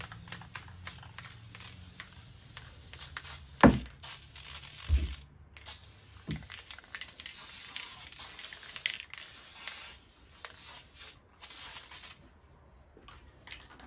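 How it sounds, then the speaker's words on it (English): Short hissing bursts of corrosion guard aerosol sprayed inside the engine bay of a 2023 Kawasaki Ultra 160LX jet ski, a few louder ones early and then intermittent quieter sprays with clicking and rattling handling noises. "We're gonna go ahead and spray some corrosion guard inside the engine bay here."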